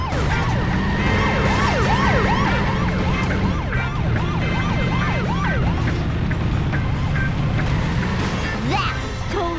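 A police car siren in The Simpsons Hit & Run video game wails in rapid rising and falling sweeps for several seconds, loud over a low engine rumble and game noise, then fades out near the end.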